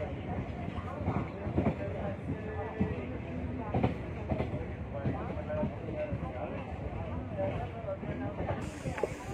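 The Siddaganga Express pulls into Ajjampura station in a forested area, with a steady rumbling clatter of rail cars and faint knocks and squeaks heard from inside the train.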